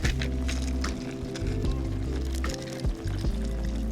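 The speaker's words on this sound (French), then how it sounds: "On va ajouter de l'eau." Water pours into a pot of pot-au-feu broth at a wild island campsite in Japan, making a close, gurgling, continuous splash with a few sloshing bumps.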